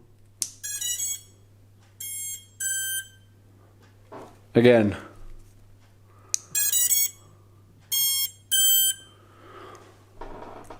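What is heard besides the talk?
NamelessRC Powerstick drone motor startup beeps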